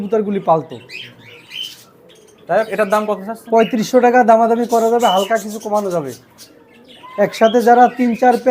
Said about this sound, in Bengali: সুমন ভাই প্রত্যেকটা কবুতর লফটের কবুতর